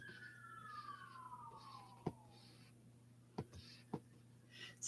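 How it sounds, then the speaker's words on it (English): A distant emergency vehicle siren wails faintly, its tone sliding slowly downward over a few seconds against a steady low hum, with a few sharp clicks breaking through. "Sirens."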